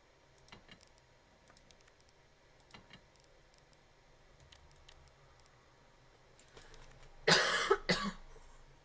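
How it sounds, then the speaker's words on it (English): A person coughs in a short, loud, close burst near the end of a quiet stretch in Resident Evil 2, after faint scattered clicks and ticks. "Stop coughing!"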